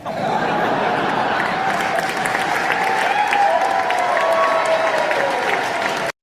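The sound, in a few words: audience applause for Prince Harry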